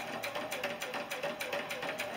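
Sewing machine stitching a quilt block with a quarter-inch seam, a quick, even mechanical chatter of needle strokes running steadily at moderate pace, close and fairly quiet.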